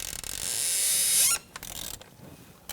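A ratchet turning T30 Torx intake bolts on a Ford Ranger 4.0L V6, the bolts sitting on rubber bushings, giving a close, loud creaking mechanical rasp that cuts off abruptly, then short softer clicks.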